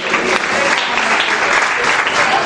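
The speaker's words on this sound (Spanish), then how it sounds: "un aplauso desde ya" Concert audience applause at a tribute show, a thick, continuous wash of clapping from a large crowd, loud and sustained throughout.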